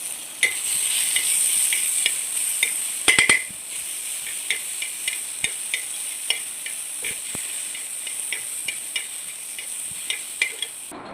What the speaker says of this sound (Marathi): हे बघा कांदा, बदाम, काजू आणि टोमॅटो आपण इथे फ्राय करून घेतलेले आहे.